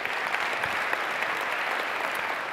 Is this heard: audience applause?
yes